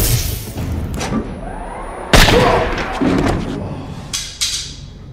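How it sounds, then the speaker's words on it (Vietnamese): Gunfire in an action movie arrives as heavy booming thuds and a sharp crashing blast, several impacts over a few seconds against a dense, rumbling soundtrack. "Gunfire. Tiếng súng."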